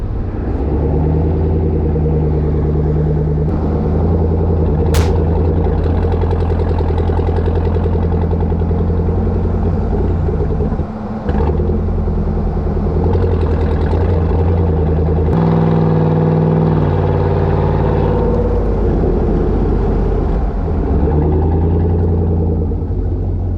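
A Chevrolet Silverado ZR2 pickup with an aftermarket exhaust cruises on a highway, its steady, loud exhaust note holding a deep drone with small shifts in engine load and no pauses.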